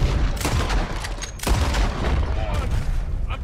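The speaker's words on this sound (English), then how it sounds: "Arthur, shoot!" Gunfire in the video game Red Dead Redemption 2 booms in heavy sharp shots amid a rumbling fusillade, loud and close, with two standout blasts early on and a voice speaking briefly.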